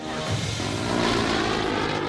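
AC-130 gunship aircraft engine, a steady loud propeller drone with a throbbing tone that holds through the short clip, no talk.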